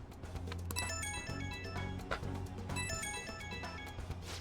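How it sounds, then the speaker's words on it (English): Phone ringtone from an incoming call in a video game, a bright repeating electronic melody of tonal notes over steady low background music, fairly loud and continuous with no talk. "Getting a phone call."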